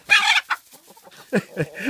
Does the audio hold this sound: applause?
no